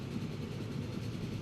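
Big Boy steam locomotive in Transport Fever 2, a low, steady rumble of the heavy engine rolling along, continuous and moderately quiet with no talking.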